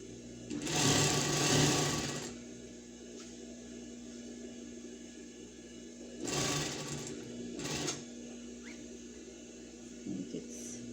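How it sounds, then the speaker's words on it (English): A sewing machine runs in bursts, a long fast stitching run, then two shorter ones, with a quiet electrical hum between them. "Now I am sitting over the sewing machine, and I'm gonna do the cross stitch."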